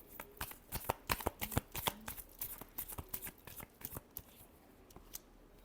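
Tarot cards being shuffled by hand, a close, quiet run of quick riffling bursts and soft slaps in an uneven rhythm that thins out toward the end.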